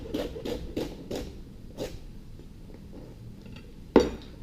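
A knife slices celery into angular stir-fry pieces on a cutting board: a quick run of about five crisp chops, then a pause and one louder chop near the end.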